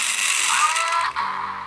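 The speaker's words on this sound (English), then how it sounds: "I heard some engine whir." A Transformers Armada Optimus Prime toy's motorized transforming mechanism gives a steady mechanical whirring with ratcheting gear clicks, close by, briefly dipping near the end before continuing.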